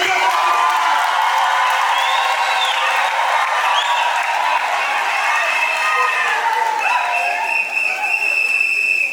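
Wedding guests at a civil ceremony applaud and cheer in a dense, steady wash of clapping and voices, with high shrill calls or whistles rising over it and no pause throughout.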